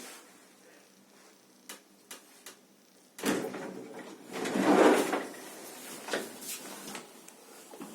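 In an old 1900s Vienna elevator, automatic sliding lift doors with a roller at the bottom give a few faint clicks, then a quiet rolling rumble as they slide for about two seconds, followed by softer knocks.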